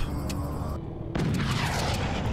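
Cannon fire in the physics-based strategy game Forts: a sudden broadband boom bursts in after a brief hush, followed by a sustained rumbling roar of explosions and debris that stays loud to the end.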